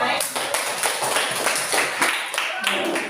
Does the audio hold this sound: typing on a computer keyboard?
no